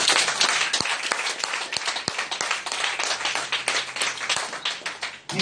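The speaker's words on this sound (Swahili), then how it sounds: "Hebu tupigie Bwana makofi makubwa." A Sunday church congregation breaks into sustained applause for the Lord, a loud, continuous roar of many hands clapping with a few sharper claps standing out, no speech over it.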